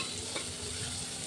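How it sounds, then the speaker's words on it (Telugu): Garlic and green chilli paste being stirred into frying onions in a pan, a steady soft sizzle with faint scraping, no one speaking. "ఇప్పుడు వేసేసుకొని బాగా మిక్స్ చేసుకోవాలి"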